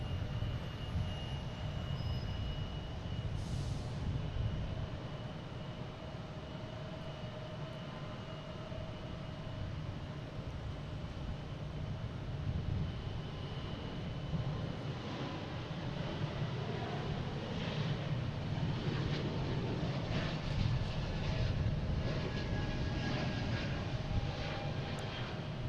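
An Air Canada Airbus A220 bound for Toronto takes off at Boston Logan, its engine noise a sustained, moderately loud rumble with a faint whine, steady and unbroken throughout.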